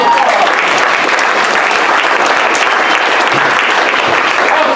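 Loud, dense audience applause at an improv comedy show, a sustained wash of many hands clapping that keeps up evenly throughout, with no talking.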